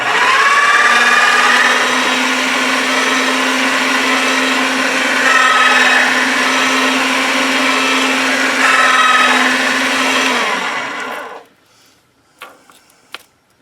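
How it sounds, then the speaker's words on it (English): Polymer clay fed through a pasta machine gives a steady, loud mechanical whirring with a low hum for about eleven seconds, then cuts off, leaving a few faint knocks and near silence. "But I am going to run this through my pasta machine."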